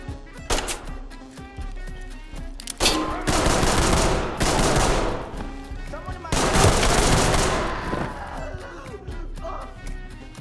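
.45 ACP gunfire in the Ready or Not tactical shooter game, loud sharp bursts of rapid shots in several volleys with echoing tails, mixed with shouted voices and game sounds.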